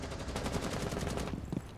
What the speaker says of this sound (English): I shot someone up.